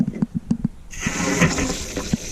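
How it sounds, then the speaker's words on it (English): Water rushes into the fresh water tank of a Flagstaff E-Pro E20BHS RV, starting abruptly after a few soft knocks and clicks, then a steady loud gushing hiss that continues to the end. "my daughter's going to start filling up the tank here"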